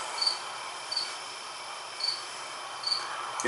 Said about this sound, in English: the only thing chirping are the crickets